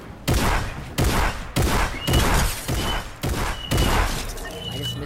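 Video game gunfire in a shooter match, six or seven loud, close bursts of rapid shots spaced roughly every half second to a second.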